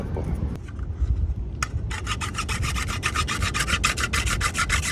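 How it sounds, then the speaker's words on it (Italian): A larger drill bit bores out a hole in a part, first as a rough grinding rub and then as a fast, even run of close, gritty rasping strokes that carries on to the end. "Adesso con una punta un po' più grande cerco di allargare il foro alla misura corretta perché entri il perno della nuova parte."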